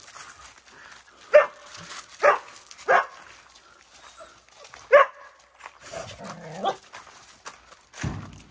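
Several dogs bark in a handful of sharp, separate bursts with soft whimpers and yips between them, fairly close with quiet gaps.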